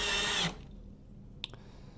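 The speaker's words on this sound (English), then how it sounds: "I'm just gonna screw this faceplate in" A power drill driving screws into the faceplate of an interior door knob gives a loud half-second whirring burst, then quiet with a single small click.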